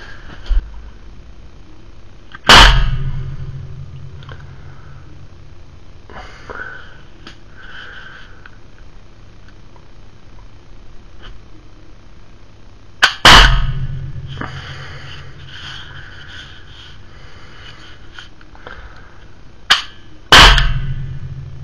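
An HDR 50 revolver fitted with a conversion kit fires three sharp, loud cracks spaced far apart into a cardboard box with a towel inside, each followed by a short thud and brief resonance, with quiet handling between shots.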